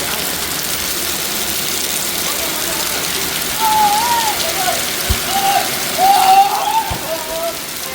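Heavy rain pours steadily on a wedding morning, a dense even wash of falling water close by, with a few faint clatters and a brief engine-like rumble underneath.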